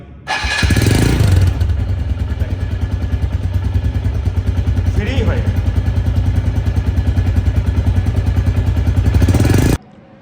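A second-hand motorcycle from late 2024 with only 300–400 km on it idles steadily and loudly nearby, its engine giving an even, rapid thumping pulse from start to finish before cutting off abruptly.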